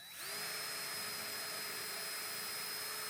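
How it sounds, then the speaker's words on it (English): A power drill boring a hole through the center of a 2x4, starting abruptly and then holding a loud, steady high-pitched whine that runs unbroken to the end. "then I'm going to drill that hole"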